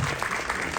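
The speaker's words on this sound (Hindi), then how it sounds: "एक बार जोरदार तालियां" An audience applauds at the teaser launch event for the film Border 2, a brief burst of dense, steady clapping from a crowd.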